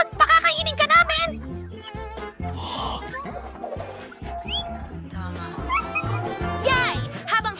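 A dog yaps and whimpers in short, sharp bursts amid lively, excited voices and laughter, the barks close and loud, with music-like tones running underneath.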